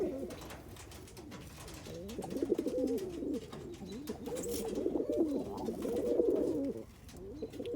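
Roller pigeon cock birds, young recessive red, recessive yellow and almond birds, give low, throaty coos that rise and swell in overlapping bursts, fairly close, with a soft hiss of background noise.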